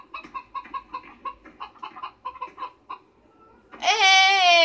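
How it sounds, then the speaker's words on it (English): Chickens in a farm sim video game cluck in a quick, bouncy series of short calls, followed by a loud, sustained crowing cry at the end. "I hear my little bitty chickens."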